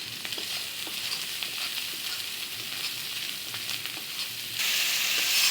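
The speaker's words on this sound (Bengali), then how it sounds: "মানে আমি একটু কষাবো সুন্দর করে" Spices with turmeric, salt and chili sizzle in a pan for an egg and potato curry. A steady, close frying hiss carries faint stirring taps and swells louder near the end.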